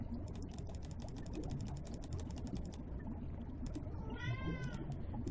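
A house cat meows once, close by, over steady ticking and whirring machine sounds from a computer game running in the background.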